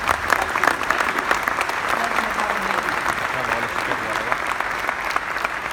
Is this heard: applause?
yes